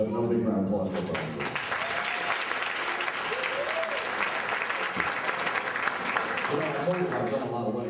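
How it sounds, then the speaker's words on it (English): Wedding guests break into sustained applause for the groom Brian, a dense, steady wash of clapping filling the room from start to end, with voices and cheers faintly mixed in underneath. "another big round of applause for Brian"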